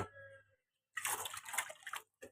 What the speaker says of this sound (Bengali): দেখছো জল ভরে পড়ে যাচ্ছে